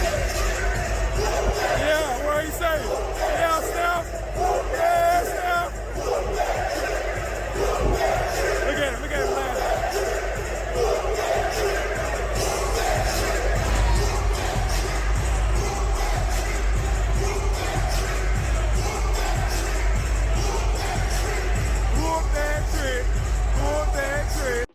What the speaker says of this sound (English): listen to the Memphis Grizzlies crowd basically serenade the Golden State Warriors players with whoop that trick